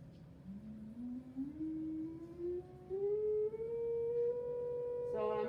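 A pure electronic test tone for a classroom standing wave demonstration glides upward toward 510 hertz, steady and moderately loud with faint overtones, before a short burst of voice at the end.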